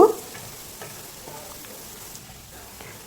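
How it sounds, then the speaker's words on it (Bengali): Ground spices fry on a low flame in a pan for a Bengali lote fish dish, giving a soft, steady sizzle with faint scraping stir strokes and a brief clink at the start. "এবার গুঁড়ো মশলাটাকেও প্রায় দু তিন মিনিট লো ফ্লেমে কষিয়ে নেব"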